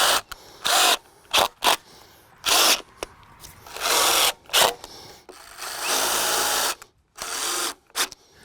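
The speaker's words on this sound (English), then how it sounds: "So if you drill in reverse while you're pushing" A power drill driving screws into softwood lumber for a raised garden bed planter runs in repeated short and longer bursts with pauses between them, loud and close, with no talking.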